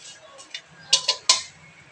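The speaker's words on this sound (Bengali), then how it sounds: "এখানে আমি ডালগুলো ঘাটে নিচ্ছি।" Lentils, including split chickpea dal, stirred in a cooking pot in a home kitchen: a few sharp clinks and scrapes of a spoon against the pot, close and fairly quiet, spaced out over a faint background with no talk.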